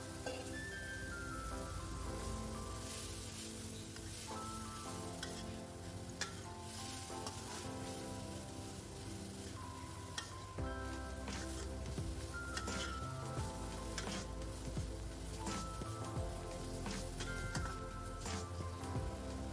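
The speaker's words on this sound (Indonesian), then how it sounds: "Selanjutnya kita masukkan jamurnya. Kita oseng-oseng sebentar." Mushrooms stir-fried with fragrant spice paste in a pan, a steady close sizzle with intermittent scraping and clinking of a utensil against the pan throughout.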